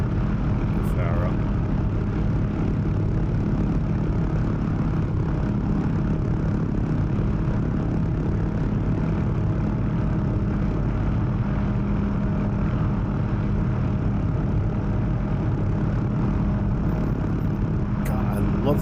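Rotor and engine drone of an OH-6 Cayuse helicopter in flight in the DCS combat simulator, a dense steady roar with a rhythmic flutter running unbroken throughout, with a voice talking over it.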